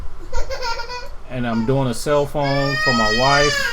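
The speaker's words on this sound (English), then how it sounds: "You can hear my baby crying in the back." An infant wails in the background in drawn-out, rising and falling cries while someone talks nearby. The crying grows louder and more continuous toward the end.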